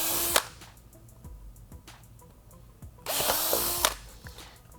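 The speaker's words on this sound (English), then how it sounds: "Swap over to my 1/4 inch. Get that drilled out to 1/4 inch." A power drill bores a hole out to 1/4 inch during fender eliminator work on a 2016+ Yamaha XSR700, with two loud, close, high whirring bursts of under a second each, separated by quieter clicks and handling noise.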